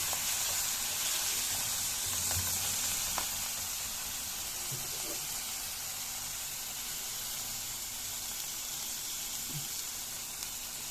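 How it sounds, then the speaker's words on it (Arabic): Pigeon livers sauté with onions in a pan while stuffed pigeons with rice are being prepared, a soft, steady sizzling hiss with a few faint clinks and stirs and no talking. "نشوح الكبدة بالبصل"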